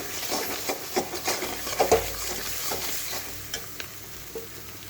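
Pointed gourd with cashew paste and poppy seed paste fries in a pan, a soft steady sizzle broken by several close spatula scrapes and clinks as it is stirred.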